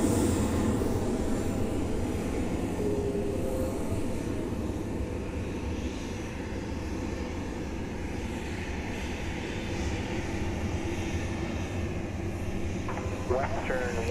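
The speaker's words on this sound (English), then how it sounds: "Oh, it's gonna be heavy departure." A heavy airliner departs from runway 10L at Fort Lauderdale, its jet engines a steady, broad roar held at a constant level throughout, with no talk over it.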